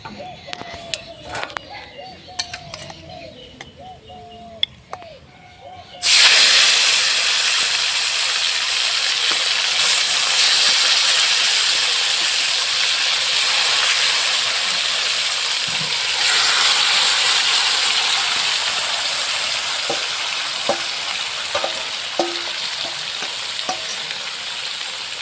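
Mutton goes into hot oil seasoned with panch phoron: a sudden loud sizzle bursts in after a few quiet seconds of clinking, then a sustained hiss carries on with stirring scrapes and small knocks.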